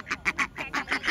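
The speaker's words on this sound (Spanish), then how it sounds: "Solo queríamos ver los patos porque son muy graciosos." Ducks quack close by outdoors in a rapid run of about seven nasal calls in quick succession, loud and clear with no talking over them.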